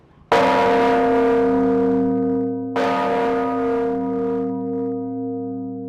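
Two heavy strokes of a ten-tonne church bell from 1884, each a loud, close clang that blooms into a long, shimmering hum fading slowly between and after the strikes.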